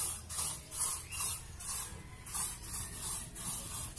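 Shine spray hisses onto a nearly five-year-old motorcycle during washing and detailing, in a steady series of short bursts that run back to back, close and fairly loud.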